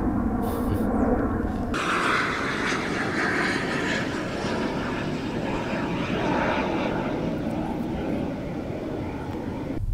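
Airplane passing overhead above a forest, a steady loud engine roar that swells in and holds for the whole stretch, with a brief rustle at the start.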